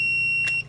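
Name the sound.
Hioki DT4252 multimeter beeping on shorted test leads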